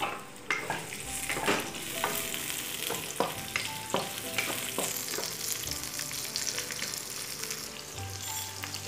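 Tomatoes and chillies fry in hot oil in a pan. A spoon scrapes and clatters through the food again and again over a steady sizzle, close and clear, with no one talking.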